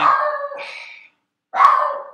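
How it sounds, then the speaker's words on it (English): A dog in a home barks in two bursts separated by a brief silence, sounding fairly close and clear, with no talk over it. "That's my dog in the background."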